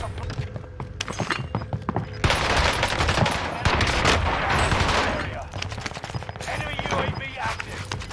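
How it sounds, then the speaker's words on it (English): Rapid automatic bursts from an Owen Gun submachine gun in Call of Duty Warzone Rebirth, loud and dense, with sustained volleys of gunfire layered over game effects and a voice talking through parts of it. "let's see how broken his OWEN GUN is"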